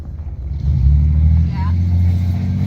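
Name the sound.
car driving into a campsite at night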